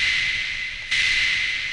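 A sustained, airy synthesizer pad with a steady high whine, briefly dipping before swelling back, eerie and continuous with no voices.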